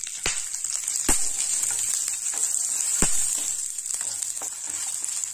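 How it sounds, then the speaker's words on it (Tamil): Small onions fry in hot oil for vendakkai kulambu, a steady bright sizzle with a few sharp pops and stirring knocks against the pan. "இந்த வெங்காயம் எல்லாம் லைட்டா வதங்கிடுச்சு"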